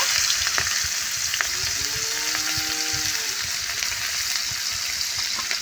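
Chopped onions fry for a curry in oil left from frying fish, giving a steady, close sizzle with occasional stirring clicks and no talking.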